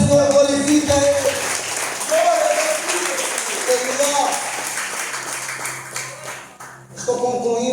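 A church congregation claps and applauds in a Pentecostal service, loud sustained clapping mixed with singing or music that thins out toward the end.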